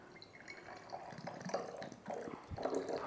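Homemade hydrosol poured from a container through a small funnel into a 100 ml bottle: soft trickling and dripping liquid with gurgling, close and fairly quiet, continuous for a few seconds.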